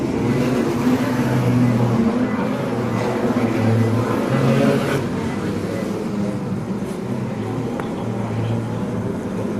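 Wingless sprint cars roar around Laang Speedway in an A-Main race, a loud continuous engine drone that swells and fades slightly as the field passes, with no talk.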